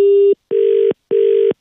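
A telephone rings in repeated steady tone bursts, each about half a second long with short silent gaps between them, loud and close with no voices.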